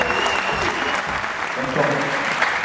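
An audience applauds two artisans at an award ceremony. The clapping is dense and sustained, stays loud and even throughout, and is heard close by.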